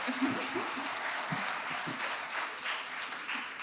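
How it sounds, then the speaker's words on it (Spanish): Soft, distant applause from an audience at an educational talk in Santo Domingo, a fairly quiet wash of clapping with a few faint voices underneath. "eso merece un aplauso de este autor"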